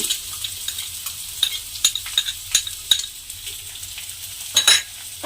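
Chopped onion frying in hot ghee sizzles steadily in a pan, with a few scraping stirs of a spatula and sharper crackles near the end, close and alone.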